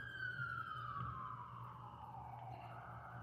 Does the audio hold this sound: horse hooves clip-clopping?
no